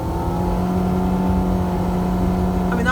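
Nissan Altima engine free revving while parked, a steady loud drone with a low hum and a constant whirring tone, held evenly with no voices.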